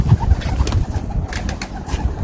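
Pigeons close by give soft low coos and brief bursts of wing flapping, irregular and near, with no voices over them.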